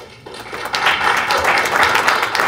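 Audience applause at a mayoral debate in Holyoke, a steady broad wash of clapping that swells after a quiet start and holds at moderate loudness.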